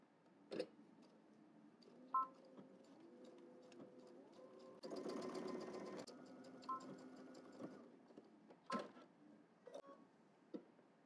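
A sewing machine runs fairly quietly, stitching across a triangle and down the side of a fabric bag, with a steady hum broken by sharp clicks and a louder, busier stretch midway.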